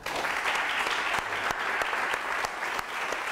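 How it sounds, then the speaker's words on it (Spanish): Loud, energetic applause from a conference audience in a hall, dense close clapping with a few sharper individual claps standing out, sustained without a break. "por favor, el aplauso más enorme, concentrado"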